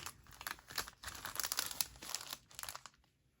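Paper crinkles and rustles close up as it is folded over, a string of soft crackling bursts that fade out at the end.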